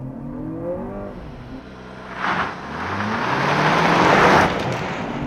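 A 2023 Lexus RX 500h hybrid SUV launches hard in sport mode with traction control off, its engine and motor whir swelling steadily into a loud, rising acceleration roar over several seconds.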